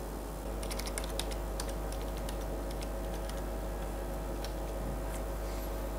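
A payment password goes in on a computer keyboard, a run of quick, light key taps in an irregular rhythm, close and fairly quiet over a low steady hum, with no talking.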